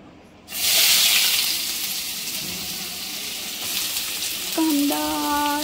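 Onion drops into hot oil in a pan, bursting into a loud, close sizzle that eases into steady frying, with a brief tonal hum near the end.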